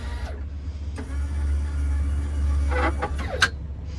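In a 2008 Honda Odyssey EX-L VMI Northstar wheelchair-accessible van, a powered seat motor hums steadily as the seat swivels and moves, with mechanical clicks and a clunk near the end, close up and with no talking.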